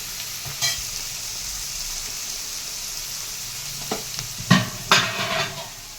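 Onions and fish fry in a covered pan for a village-style fish and egg fry. A low, steady sizzle runs underneath, broken by a few sharp clinks and stirring scrapes from a utensil.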